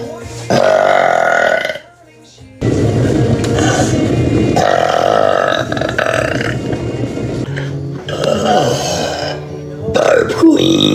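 A woman burps several times in a row, loud and close, the belches long and throaty with brief pauses between them.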